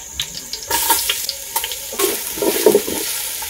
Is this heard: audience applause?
no